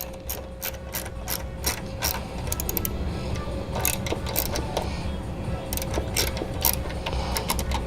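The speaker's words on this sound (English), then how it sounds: "And then we're going to tighten the bolt." A ratchet clicks in quick bursts while tightening a bolt on an engine valve cover fitted with a PCV catch can, crisp close ratcheting repeated in rapid strokes over a low background hum.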